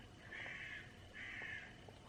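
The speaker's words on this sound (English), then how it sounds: "Wasn't that a crow? Ignore the very noisy bird." A crow gives two drawn-out caws about a second apart, faint and somewhat distant over a quiet indoor room hum, with no voices.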